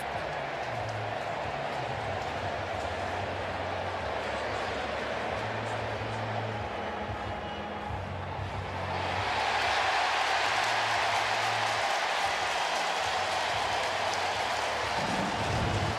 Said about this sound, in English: You can hear the crowd here. They're making their call themselves, saying safe.